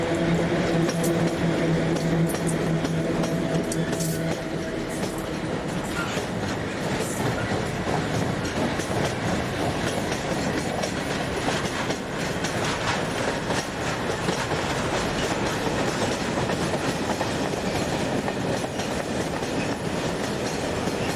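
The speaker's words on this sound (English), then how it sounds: "Double loco number ET41107 is an example of another class widely seen" An ET41 double electric locomotive hauls a freight train on State Railways track, a loud continuous rumble with clattering wheels and brief squeals as the wagons pass close by.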